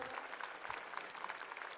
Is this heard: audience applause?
yes